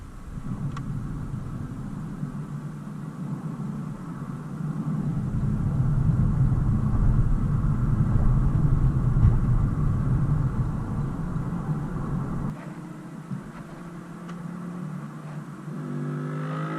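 A 2013 Porsche Panamera Turbo drives along a street, its engine giving a steady low rumble that swells while accelerating mid-way, then drops back to a quieter idle-like hum near the end.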